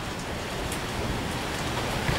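Steady rain falling at a bus stop in Brantford, a continuous close hiss of drops on the pavement and surrounding surfaces, even and unbroken with no one talking.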